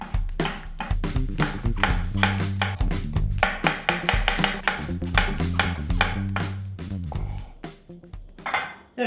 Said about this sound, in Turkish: Biberlerimizi doğramaya devam edelim.